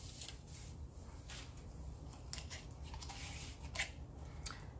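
Scissors snipping through a piece of Dollar Tree Christmas garland, a few quiet close cuts and rustles of the tinsel-like strand, with no talking.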